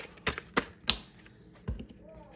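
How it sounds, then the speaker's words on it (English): Tarot cards being shuffled, a few sharp irregular riffling snaps and taps close by, with quiet gaps between them. "And I'm gonna shuffle."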